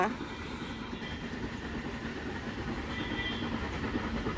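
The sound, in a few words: mountain railway train passing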